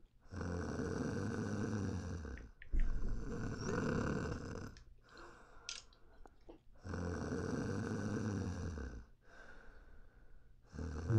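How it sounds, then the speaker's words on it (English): Snoring from a Spyro the Dragon prototype video game: long, loud, rhythmic snores in a repeating inhale-exhale cycle, with a quieter stretch in the middle, heard alone with no talk. "Just snoring sounds."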